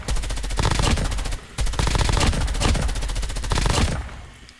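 Sustained automatic fire from an M13 rifle fitted with a red dot sight in the mobile shooter COD Mobile, rapid loud rattling bursts with a brief gap near the middle before trailing off.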